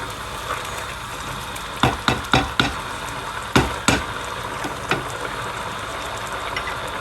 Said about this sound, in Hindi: लौकी गल गई है, अब हम आंच ऊंची करके इसको भून लेंगे।